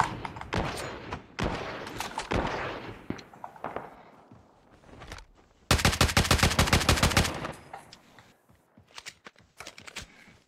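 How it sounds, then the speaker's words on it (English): Video game gunfire in a multiplayer shooter, rapid bursts of shots with a dense sustained volley of automatic fire in the middle, then scattered single cracks, loud and close with no talking over it. "I'm getting shot."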